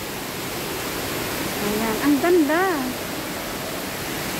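Water pours continuously from a water feature in the Hong Kong Park aquarium, a steady rushing hiss under a brief spoken remark.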